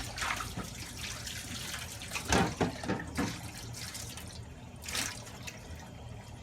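Tap water runs steadily into a sink while Kuvings whole juicer parts are rinsed and washed, with splashes, drips and plastic knocks close by and no talking.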